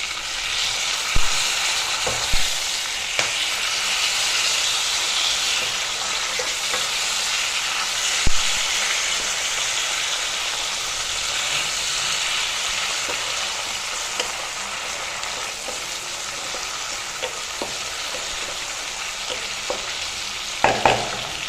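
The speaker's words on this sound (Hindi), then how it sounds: "टमाटर टिके फ्राए हो गला" Tomatoes fry with browned onions in a pan, giving a steady, loud sizzle throughout, with occasional clicks and scrapes of a stirring spoon.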